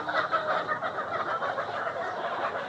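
Layer hens in a poultry shed cluck and murmur continuously, a busy chorus of many birds at moderate distance with no single call standing out.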